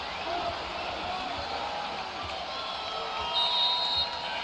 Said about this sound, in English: And the Rupp crowd back into this game thanks to this mini run by the Cats.